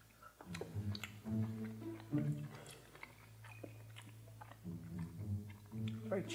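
Gummy fruit snacks chewed close to the mic, soft wet squishing bites over a few seconds with a steady low hum behind them.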